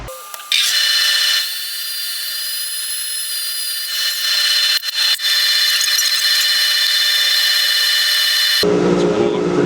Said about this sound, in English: let's do electrical sanding, or electric sanding, mechanical